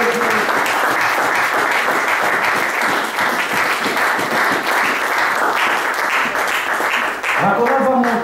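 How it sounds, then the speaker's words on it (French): A church congregation breaks into loud, sustained applause and cheering that fills the room, dense clapping close around, with a voice rising near the end. "Acclamez très fort pour la gloire de Dieu"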